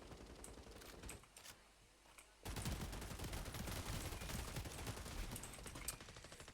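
Gunfire in a video game played on a sniper setup, a quieter stretch followed by a sudden loud, sustained barrage of shots and crackling that continues to the end.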